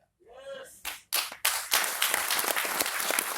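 Audience clapping at a motivational business seminar that starts with a brief vocal sound, then a few sharp separate claps that quickly swell into steady, fairly close applause.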